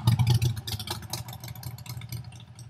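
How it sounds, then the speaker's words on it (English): A motorcycle engine rumbles nearby with a throbbing low growl and some mechanical clatter, gradually easing off. "sorry about this motorcycle, it's going to be really loud coming by"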